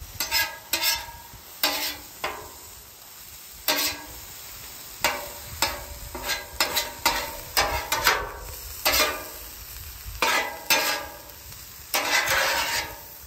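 A metal spatula chops and mixes cheesesteak meat with horseradish cheddar on a flat griddle, sharp irregular scraping and clacking strokes over a low background sizzle.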